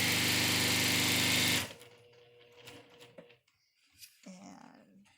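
A sewing machine runs steadily and loudly stitching down the seam allowance on a pleated fabric face mask, then stops abruptly after about a second and a half, leaving quiet handling noises and faint movement.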